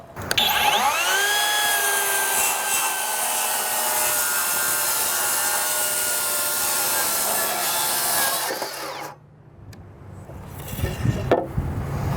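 A Skilsaw TRUEHVL cordless worm drive saw cuts through plywood taken from a stack, giving a loud, steady whining buzz for about eight seconds that stops abruptly, followed by quieter handling clatter and knocks.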